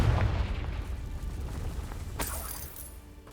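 A Confringo spell blasts in Hogwarts Legacy, a deep booming explosion opening loud and rumbling, followed by rattling debris and a sharp crackle as it fades, with no talk.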